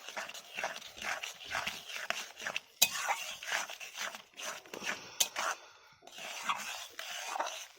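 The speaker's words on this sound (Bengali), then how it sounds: "ভালো করে নেড়ে চেড়ে দিচ্ছি" A spoon stirs thick papad chutney with cashews, raisins and chopped ginger in a pan, giving steady, close, rhythmic scraping and clinking against the metal with no talking.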